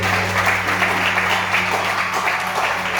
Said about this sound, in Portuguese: dê uma linda salva de palmas a Ele